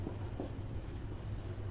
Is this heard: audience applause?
no